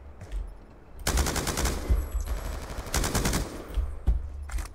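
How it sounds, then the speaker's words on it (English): Machine gun fire from Black Ops 2, loud sustained bursts of rapid automatic shots with a brief pause between volleys, close and dominant with no talking over it. "It's a machine gun."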